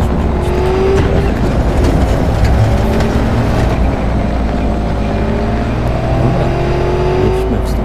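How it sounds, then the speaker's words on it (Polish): A loud car engine drones in the video game Cyberpunk 2077. Its low, continuous roar holds steady throughout with slight shifts in pitch, and faint other game sounds sit beneath it. "Samochód jest głośny"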